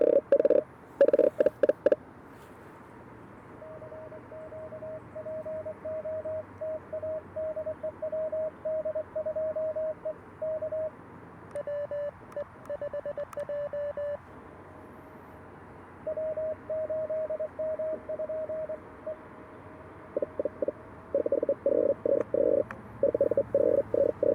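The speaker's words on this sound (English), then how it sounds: "The digital noise is crazy." Steady hiss and hum from a ham radio receiver on a CW portable setup with a 17-foot whip, swamped by digital noise interference, with a faint intermittent tone and bursts of pulsing clicks, no talk.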